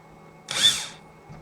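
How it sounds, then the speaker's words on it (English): Power drill with a bit, marking a spot on an equipment board for a solar charge controller: one short burst of about half a second with a whine that rises and falls, close, then quiet hum. "And I'm going to use my drill bit."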